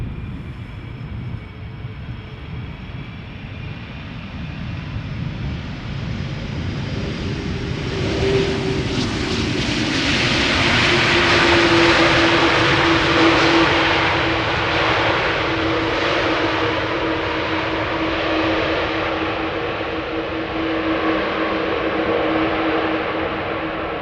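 KLM Airbus A330 rolling out after landing at Schiphol, a jet roar swelling to a loud peak midway and then easing into a sustained engine drone with a steady whine, no talk.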